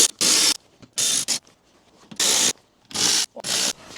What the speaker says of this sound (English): 8mm bolts, whiz those out, let's get down to it.